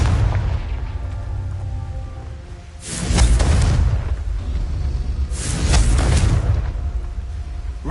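Two booming explosions from the Confringo fire spell in Hogwarts Legacy, each a loud broadband blast with a rumbling tail, spaced about two and a half seconds apart over steady game ambience.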